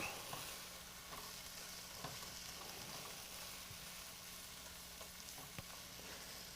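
Frozen pre-cooked vegetables sizzling in a hot pan, a steady dense frying hiss throughout with occasional faint clicks of stirring, close and continuous with no talking.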